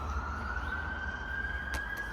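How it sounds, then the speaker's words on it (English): An ambulance siren sounds faint and distant as it passes along a road, a steady wailing tone over low rumbling background noise. "There's an ambulance though, to be fair."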